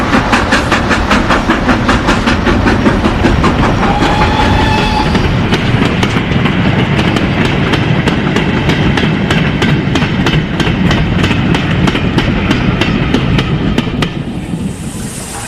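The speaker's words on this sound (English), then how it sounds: "Edward's puffing noise echoes under the road bridge, as he takes a short freight working" A steam locomotive hauling a short freight working puffs loudly and rhythmically as it passes under a road bridge, its exhaust beats echoing off the structure alongside rail clatter, then fading slightly at the very end.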